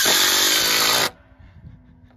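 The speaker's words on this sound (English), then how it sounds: "Drill it and screw it." A loud power drill driving screws while building a post and rail fence whirs for about a second, then cuts off abruptly, leaving faint background noise.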